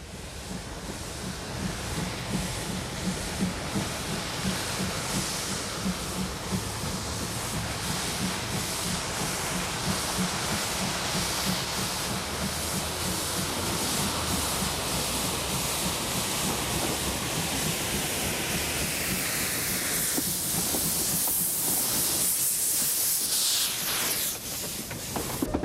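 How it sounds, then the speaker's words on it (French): Steam locomotive 403 on the Vivarais line in Ardèche pulling away with every drain cock open, a loud, continuous steam hiss over a steady rumble, with rapid puffing chuffs toward the end. "la 403 s'ébranle à son tour, tout purgeur ouvert."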